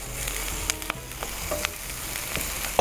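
Chicken feet sizzle in a pan, cooked campfire-style, with a quiet steady frying hiss broken by scattered crackles and small pops.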